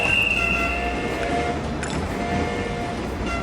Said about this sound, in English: you fascinated by the train sound?